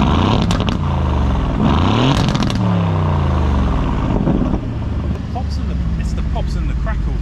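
Aston Martin V8 Vantage fitted with OPF delete pipes, revving hard and loud nearby, with deep rising and falling engine sweeps and a rumbling idle between blips, and voices talking over it.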